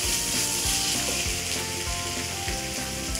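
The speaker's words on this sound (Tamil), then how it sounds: "கொஞ்ச நேரம் இதை வதங்கட்டும்." Raw mango for mango pachadi sautés in a pan, a loud, continuous sizzle with crackling and light scraping, heard close up and alone without any speech.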